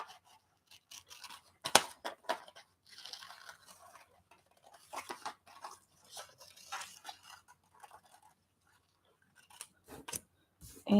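Scissors snip a picture out of a glossy magazine page in short, separated bursts of crisp cutting, close and quiet with pauses between.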